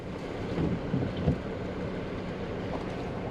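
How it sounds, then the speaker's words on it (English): Wind buffets the microphone outdoors on a wet, windy New Zealand coast near Wellington, a steady broadband roar with gusty swells and possible rain underneath, no voices. "Raining and windy."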